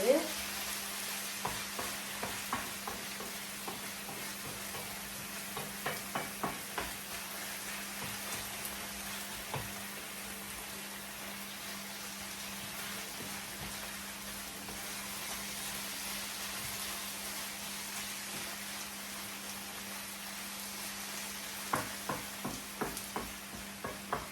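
Garlic and chillies sizzle and fry steadily in a pan for an aurhini eggplant curry, with occasional stirring scrapes and spatters, close and continuous with no talking.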